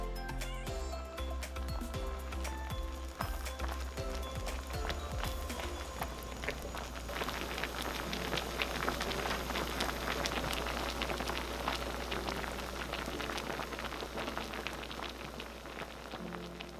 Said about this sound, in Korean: 꽈리고추 넣고 중불로 계속 졸여준다